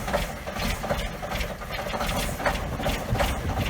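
Cummins N14 truck engine idling just after a cold start, a close, steady rough rumble with a fast mechanical clatter running through it.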